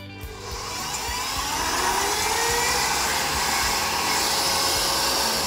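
An electric hand mixer whips egg whites for blueberry waffles. A steady loud whirring drone starts abruptly and holds for several seconds, building slightly as the motor gets up to speed.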